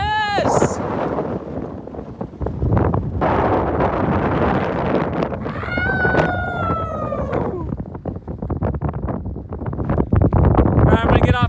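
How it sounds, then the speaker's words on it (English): Strong wind buffets the microphone on a 12,169-foot mountain peak in the Tushar Mountains, a loud continuous rumble and roar throughout, with a person shouting and talking over it. "at Delano, it's very windy."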